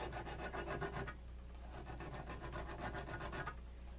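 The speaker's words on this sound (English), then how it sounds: "I'm kind of getting some of those off with the file." A metal hand file rasps back and forth across the cast marks on an AK-47 trigger hook, giving quick, close scraping strokes in two bursts separated by a brief pause.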